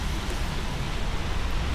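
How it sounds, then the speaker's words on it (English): Steady broadband patter of rain striking the camera close by in a Nashville car park, a continuous noisy hiss with low rumble, no voices. "I think I've got rain on my camera again."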